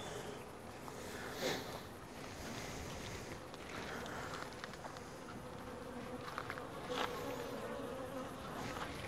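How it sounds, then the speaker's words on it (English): Honey bees buzzing in a top bar hive during an inspection, a steady close drone with brief louder swells as the colony grows agitated, and no talking. "And I'm sure there's a lot more bees in here than what there was."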